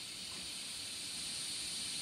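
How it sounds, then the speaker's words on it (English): A gas burner fitted under a live steam engine gives off a continuous, even hiss, nearby and steady throughout with no talking. "I just switch on the regulator, and there you have it. There's a flame."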